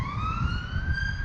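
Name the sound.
sirens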